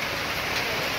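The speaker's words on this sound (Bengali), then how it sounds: "সকাল থেকে তো বৃষ্টি পড়ছে" Steady rain falling over Malda town, a dense continuous hiss at even loudness with no breaks and no voices.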